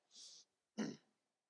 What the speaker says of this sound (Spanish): a mí toléreme un poco de tos, por favor.